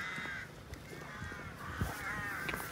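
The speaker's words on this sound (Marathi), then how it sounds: "कावळे तिकडं काव काव करतात." Crows caw repeatedly outside a cafe near Durdle Door beach, harsh calls rising over a constant low background murmur.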